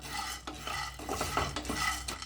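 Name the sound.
lightly roasting peanuts in a pan while stirring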